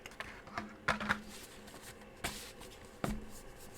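Scissors cutting through paper during a simple paper craft project, heard as a few short, quiet crisp snips spaced apart with light rustling between them, close up and with no talking.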